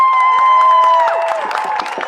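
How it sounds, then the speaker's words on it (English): A crowd at a protest rally outside the Canadian Parliament in Ottawa claps and cheers, a dense wash of applause with scattered whoops, loud at first and thinning slightly, over a steady tone. "A round of applause for everybody who showed up."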